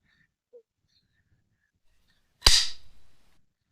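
A crossbow looses a bolt tipped with a 315 grain broadhead at a target about 10 yards away: one sharp, loud snap with a brief rattling tail, alone in a quiet setting.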